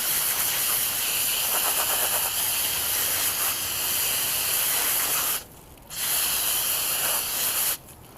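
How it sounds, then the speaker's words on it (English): A garden hose sprays water steadily onto RC car parts, a loud continuous hiss that cuts out briefly twice, with no talking. "Just hit them with the hose."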